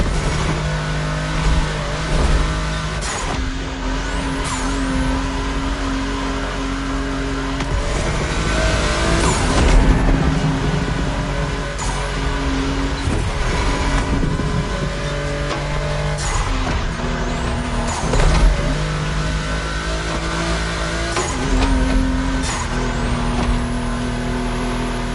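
Volkswagen race cars driven hard on a track, engines loud and close, revving up and down through repeated gear changes across a long continuous stretch.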